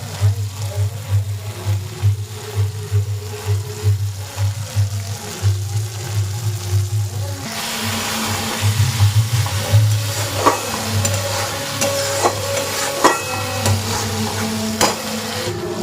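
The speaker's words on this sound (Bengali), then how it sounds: "আরও একটু ভালো করে ভেজে নেব" Pointed gourd curry cooking with spices and aloo dum masala in a pan, giving a steady sizzle with scraping stirs that grows louder and busier halfway through, close and without talk.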